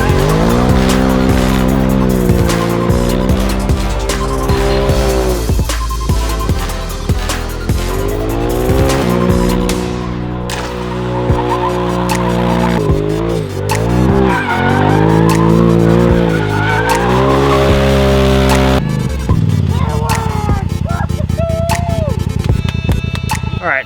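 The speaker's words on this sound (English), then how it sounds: "we officially know that this machine will drift on the drift paddock" A drift-built Polaris RZR drifts on a paddock, its engine revving hard and loud with shifting pitch while tires squeal and skid continuously throughout, close and intense.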